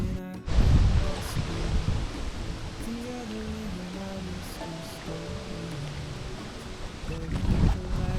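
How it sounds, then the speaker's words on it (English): Strong wind gusts through a canyon in Provence with a loud, continuous broadband rush that swells and eases, close and steady throughout, with a faint voice briefly underneath. "the wind's picking up quite a lot, as you can probably hear"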